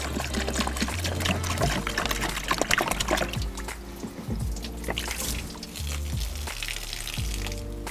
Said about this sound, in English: Now we need to fill it up with half and half of this blue antifreeze coolant.